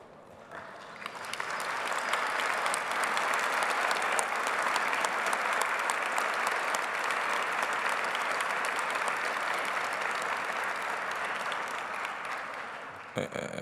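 A large audience at a graduation honors ceremony for liberal arts, social sciences and education graduates breaks into sustained applause for standing associate deans and faculty, a dense, steady wash of clapping that swells quickly and holds loud for over ten seconds.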